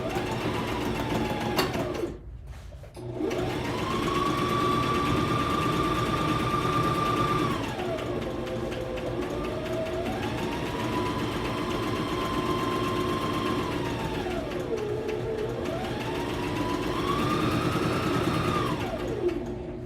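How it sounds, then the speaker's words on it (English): A sewing machine stitches a dress side seam, catching a pocket, in steady loud bursts: the motor whirs up and runs evenly, dips and slows briefly between runs, then speeds back up across three long passes. "Just sewing my side seam straight down the side, catching that pocket"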